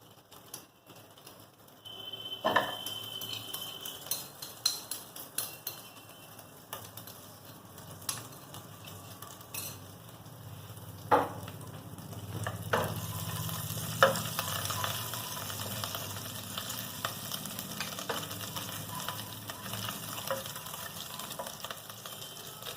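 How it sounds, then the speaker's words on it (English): Ginger and cumin seeds land in hot oil and sizzle steadily for over twenty seconds, with scattered crackles and pops, occasional stirring clicks and a fuller burst of frying midway, heard close with no talk. "the one which I am going to add first to the hot oil, which is ginger with cumin seed"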